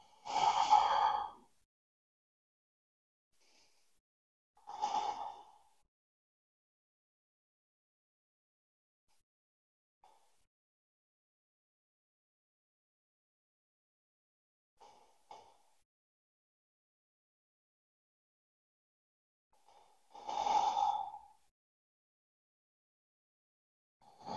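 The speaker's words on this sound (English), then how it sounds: "Breathing deep here, in and out through the nose. Deep inhales, deep exhales." Slow, deep nasal breaths during a vinyasa yoga session, a few long breathy inhale-exhale swells spaced several seconds apart with quiet gaps between, close and soft.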